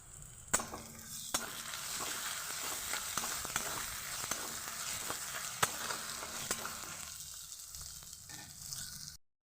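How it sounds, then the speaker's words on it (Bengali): Onions, green chillies and ginger-garlic paste fry in a pan with a continuous sizzle, broken up by the sharp clacks of a spatula as the mixture is stirred. No one speaks. "পেঁয়াজগুলো ভাজা হয়ে গেছে এবার আমি কাঁচা লঙ্কা দিয়ে দেব"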